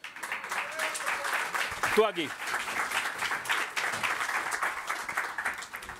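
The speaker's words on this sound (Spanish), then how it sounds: "Un aplauso para Cogeitor." An audience at a Campus Party tech event applauds a person being introduced on stage, a moderate, diffuse patter of clapping under a presenter's voice.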